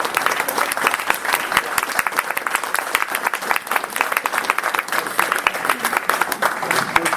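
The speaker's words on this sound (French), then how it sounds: "on va applaudir" Steady applause from an audience at a literary talk with a writer, dense continuous clapping at an even level throughout, with a faint murmur of voices underneath.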